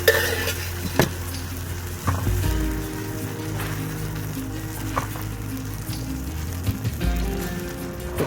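Eggs fry in a hot camp skillet while being stirred, a low sizzle beneath repeated scraping and clinking of a utensil against the pan, with a few sharper knocks spaced through.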